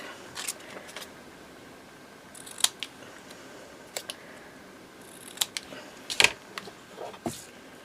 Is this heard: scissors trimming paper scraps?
yes